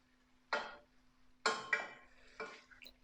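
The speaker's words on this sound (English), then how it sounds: "Just make sure to constantly stir your meat as well" A spoon stirring meat sauce for lasagne in a pot, heard as a few separate scraping, clinking strokes against the pan over a faint steady hum, fairly quiet and close.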